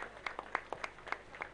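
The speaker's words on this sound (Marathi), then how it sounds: "एकदा जोरदार टाळ्या झाल्या पाहिजे." Scattered hand claps from an audience at a prize ceremony for a tennis-ball cricket tournament, about eight separate claps over a moment, fairly faint and thin rather than a full ovation.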